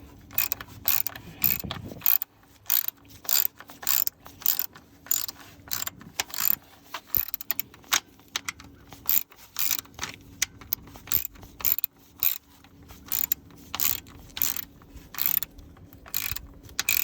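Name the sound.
tightening oil pan bolts on an Infiniti Q50 engine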